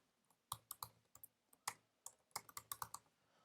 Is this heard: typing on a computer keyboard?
yes